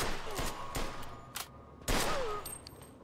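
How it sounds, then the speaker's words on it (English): Gunfire in the video game Mafia II: Definitive Edition, a rapid burst of sharp shots followed by a pause and another loud crack, with fainter noises of a firefight in between. "They're shooting at me, for Christ's sake."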